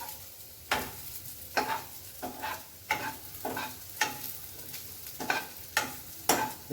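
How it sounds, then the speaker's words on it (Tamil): Onions sizzle softly in a pan while a spoon stirs them in repeated scraping strokes, about one every half second, fairly quiet and close. "வெங்காயம் வதங்கிருச்சு."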